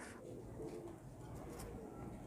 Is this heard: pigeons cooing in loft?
yes